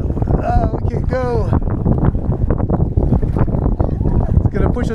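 Wind blowing hard against kayakers on the Rio Grande, a continuous rough buffeting roar over the microphone, with people talking throughout.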